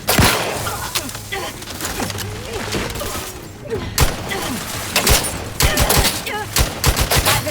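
Combat gunfire in The Outer Worlds 2 video game, with a fusillade of sharp, irregular shots and thuds, some loud and close, over a continuous background of battle noise and game sound.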